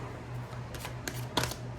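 A deck of playing cards is shuffled close by, giving a few crisp riffling bursts over a quiet low hum. No one speaks.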